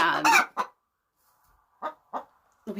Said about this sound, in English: These crazy chickens.